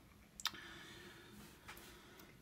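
A 6-pin Chinese mailbox lock being picked gives a single sharp, close click as it turns open, followed by a fainter tick a moment later in an otherwise quiet room.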